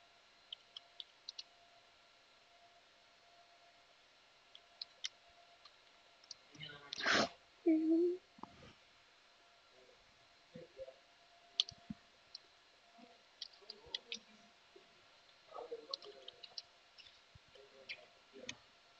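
Keyboard keys clicking on a computer, sparse soft taps and a short burst of typing, with faint mouse clicks and some background noise, while a voice speaks briefly.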